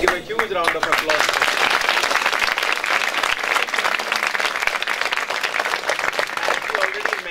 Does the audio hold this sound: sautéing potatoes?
no